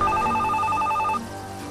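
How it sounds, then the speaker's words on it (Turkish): Telephone ringing, a rapid repeating electronic bell trill sounding for about a second before stopping, close and clear over low room noise. "Telefon çalıyor."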